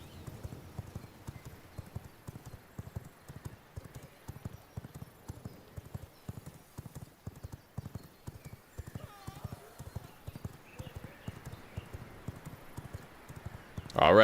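A horse gallops in the video game V Rising, its hooves drumming in a fast, steady clip-clop rhythm that runs throughout at moderate loudness, with a brief louder noise at the very end.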